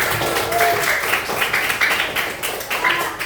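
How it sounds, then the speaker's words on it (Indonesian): A group of people in a classroom claps their hands together in an uneven, moderately loud patter, with faint voices and background murmur mixed in. "Ya, tepuk tangan"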